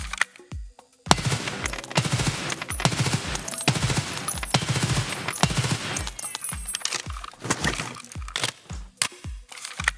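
Rapid hip-fired bursts from an HK rifle in Escape From Tarkov, loud and close, crackling in quick repeated volleys for several seconds before thinning into scattered shots, with shell casings tinkling between them.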